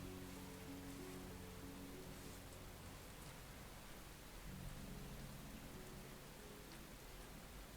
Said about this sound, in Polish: Ej, tutaj pada tak samo jak u mnie na zewnątrz.